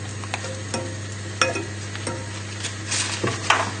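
Butter cubes whisked into a fish sauce in a pan, a continuous close sizzle with light scraping and occasional sharp clinks of the whisk against the metal.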